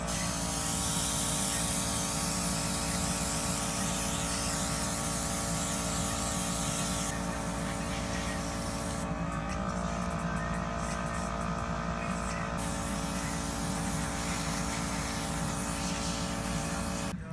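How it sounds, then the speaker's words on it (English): An airbrush makeup machine spraying foundation, a continuous airy hiss under a low motor hum that shifts slightly in tone partway through, close and steady with no talking. "So now I'm going to turn on the machine. It's going to be a little loud"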